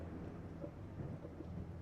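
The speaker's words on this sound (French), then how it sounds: "Il pleut encore." Faint, steady rain hisses with a low rumble of thunder beneath it in the video game Project Zomboid, continuous and distant, with no talking.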